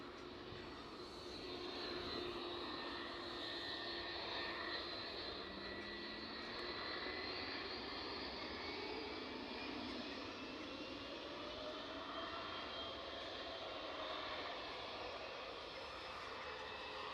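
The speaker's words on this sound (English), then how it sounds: "Nice, an A320-200 off to Nice." An EasyJet Airbus A320-200 jet departs Edinburgh Airport with a steady, distant engine roar and a thin high whine that holds evenly throughout, with no voices.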